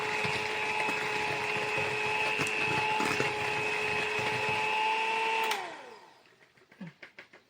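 An electric hand mixer whirring steadily through muffin batter with raisins, a loud constant motor whine that winds down and stops, followed by a few soft clinks and scrapes in the bowl.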